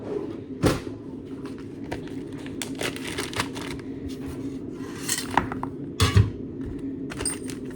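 Metallic clinks and rings from gold coins being dropped and handled, several sharp chimes scattered over a soft, rustling background.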